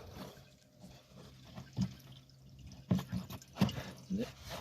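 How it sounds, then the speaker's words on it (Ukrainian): Diesel fuel running and dripping from a YuMZ-6 tractor during repair, heard as faint, irregular drips and splashes over quiet background, with a few sharper drops near the end. "у мене тут солярка стікає якраз"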